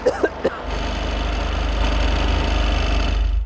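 BMW and Porsche car engines with no oil held at 3000 rpm, a few short thumps and knocks before a loud, steady engine roar that swells and holds close by.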